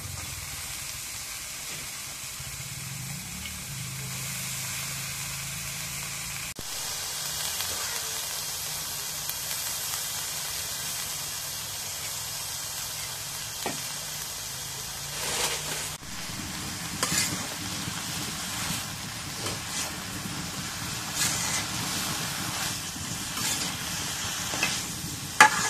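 Greens and potatoes fry in spiced oil in a pan at home, giving a soft, steady sizzle and hiss with occasional stirring scrapes and no talk.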